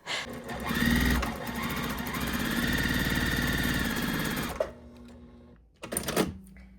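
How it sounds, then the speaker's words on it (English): A sewing machine runs steadily for about four and a half seconds, stitching quilt binding strips. It stops abruptly, and after a short quiet pause a brief second burst of stitching follows. "I am gonna sew right along that line"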